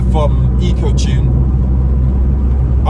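An Audi S3 8P making 600 bhp, with a DSG gearbox and EcoTune mapping, drives hard, its loud engine rumble and drone steady throughout while a voice talks over it.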